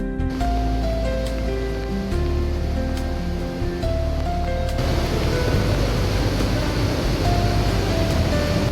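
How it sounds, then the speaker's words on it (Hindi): Heavy monsoon flow at Koltembe (Bahubali) waterfall, a broad continuous roar of falling water that surges louder midway, with a tonal melody or singing audible over it early on. "कोलतंबे वाटरफॉल, जो कि बाहुबली वाटरफॉल के नाम से भी जाना जाता है, क्योंकि इसका फ्लो सबसे ज़्यादा है।"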